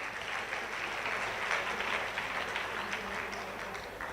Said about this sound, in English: Everybody is requested to kindly applaud the efforts of all the winners.